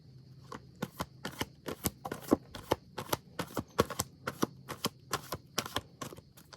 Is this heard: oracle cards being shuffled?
yes